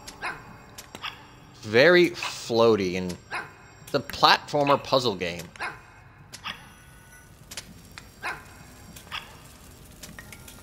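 A dog in the HeartZ: Co-Hope Puzzles platformer game barks a few short times close by, while a person talks over and between the barks.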